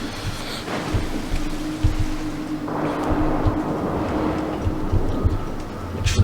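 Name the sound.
stormy night rain and thunder in video game Mark of the Ninja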